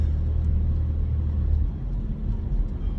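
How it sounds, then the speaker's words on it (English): A car drives along a road with a steady low rumble of engine and tyre noise, close and continuous, with no talk over it. "You hear all the car noises"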